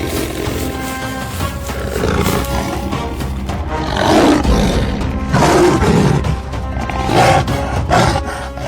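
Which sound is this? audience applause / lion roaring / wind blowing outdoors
lion roaring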